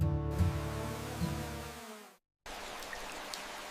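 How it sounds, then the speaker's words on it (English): Steady rain patters down in a nature setting, a dense hiss of drops with faint low tonal hum at first, briefly cutting to silence before the rainfall resumes alone. "Raindrops return nourishment, restarting the endless cycle."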